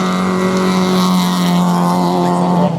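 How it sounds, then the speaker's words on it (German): A Fiat Cinquecento Sporting race car with a 95 PS engine roars loudly and steadily at high revs during a 2013 race, a close, sustained droning engine note with no talk. "Cornelia Klepp im Fiat Cinquecento Sporting 95 PS"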